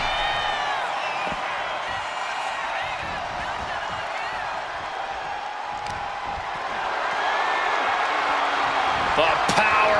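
Arena crowd in the WWE 2K26 video game during a women's wrestling match, a continuous roar of cheering that swells louder toward the end, with thuds of ring action.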